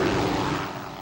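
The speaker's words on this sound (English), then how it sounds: "Helicopters in the air" A helicopter flies overhead above security checkpoints outside the Lloyd Noble Center, its engine giving a steady, fairly close mechanical drone that holds briefly and then starts to fade.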